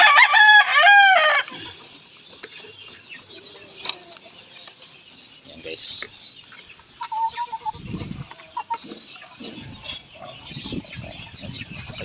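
Chickens, including a rooster and young hens, being fed on the ground at a backyard farm; a loud crow opens, then scattered clucks, pecking and shuffling continue nearby with light voices in the background.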